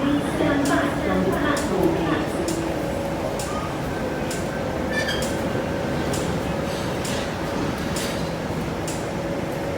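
MTR train at Kwun Tong Station, a steady loud rumble of a running train with a few clinks and metallic ticks, brief faint tones early on.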